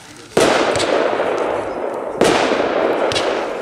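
A 35-shot firework fountain fires at a pyrotechnics pre-show event in Nürnberg, two loud hissing bursts opening into a sustained crackling spray, close and continuous.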